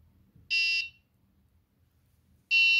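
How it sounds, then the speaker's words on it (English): Two identical electronic buzzer beeps from an Arduino soil moisture alarm with an FC28 sensor, each about half a second long, two seconds apart, loud and shrill against a quiet background. "And you can see we receive an alarm through the buzzer."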